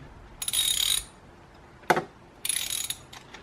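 A ratchet tightening spark plugs on a 20th Anniversary Volkswagen GTI, with three short bursts of close, quick clicking separated by brief silences.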